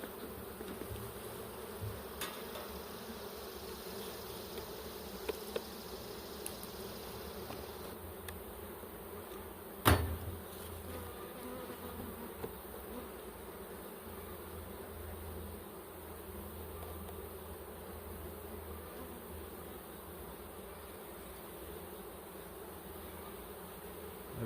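Agitated honeybees buzzing in a hive opened after a long while, a dense continuous drone close by with a single sharp knock partway through.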